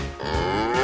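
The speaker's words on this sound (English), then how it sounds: "Cow!" A single cow gives one short, close, loud moo, heard alone.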